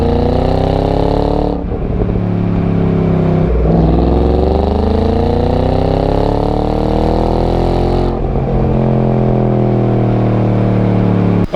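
The stock exhaust of a 2014 Shelby GT500 revving loudly and close, with a deep throaty drone that climbs and falls through several long pulls, broken by brief shifts, with no talking.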